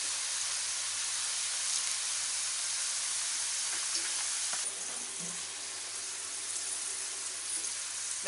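Okra fries in a wok over medium heat, giving a steady, close hiss and sizzle that runs the whole way through with no talk over it.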